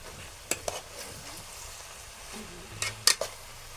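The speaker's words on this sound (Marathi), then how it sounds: "एकत्र करून घेऊ आपण कारली चांगली मसाल्यावरती त्या कांदा आणि टोमॅटोला." Bitter gourd is stirred into an onion-tomato masala in a pan, a quiet sizzle broken by a few sharp spatula knocks and scrapes against the metal, close by and without talk.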